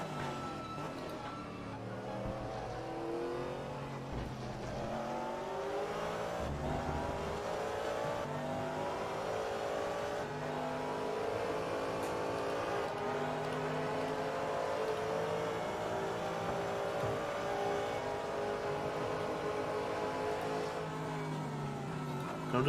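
GT3 race cars, a Porsche, a BMW and a Corvette, howl around Suzuka in a racing game, engines roaring continuously with rising and falling pitch sweeps through gear changes, loud and close throughout.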